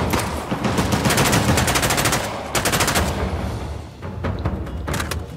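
Rapid automatic gunfire from the video game Uncharted: The Lost Legacy, dense bursts of shots with brief pauses and lighter mechanical clicks between volleys, loud and close.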